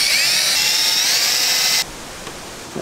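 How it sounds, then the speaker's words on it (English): A power drill bores straight through a 4x4 door panel while a sound system is being installed, a loud high-pitched whine lasting about two seconds and then cutting off abruptly, followed by quiet handling noise. "I'm just gonna get the drill bit, go straight through,"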